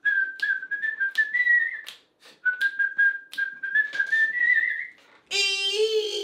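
A person whistles a song in two sliding melodic phrases, clear and close, with short breaths between notes, before a brief burst of a different tonal sound at the end.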